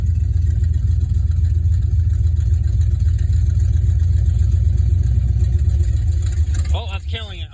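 Jeep CJ5 hot rod engine running on choke, a loud steady low rumbling idle close by that wavers and dips near the end as a voice speaks over it.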